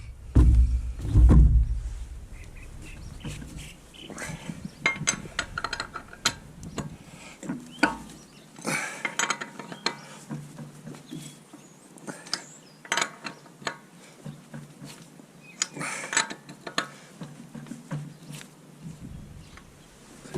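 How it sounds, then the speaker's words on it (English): Wheel nuts are loosened on a 2013 Mazda Atenza during a brake pad job: a heavy thump, then a long run of close, sharp metallic ratcheting clicks and clunks at uneven intervals, with no talking. "And we'll just loosen these wheels off, wheel nuts off."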